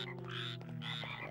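Frogs croak in an animated cartoon, a dense, steady chorus of low buzzing calls packed closely together, fairly faint with no talking over it.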